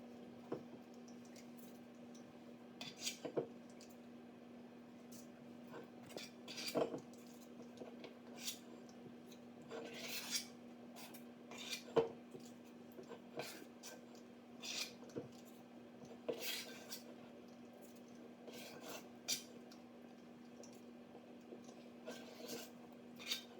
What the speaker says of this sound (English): you can scoop out not quite full, and then you can just put them in your pan